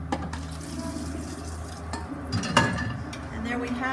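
Water poured into a bowl of soy curls in a kitchen, a steady splashing, trickling flow with some clinking against the dish, close and continuous throughout.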